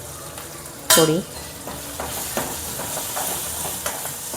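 Whole spices and chilli sizzle and crackle in hot oil as a Gujarati tempering for a val (field bean) curry, with red chilli powder, green chillies and turmeric added; a sharp hissing burst early on, then steady frying sizzle with a few stirring clinks.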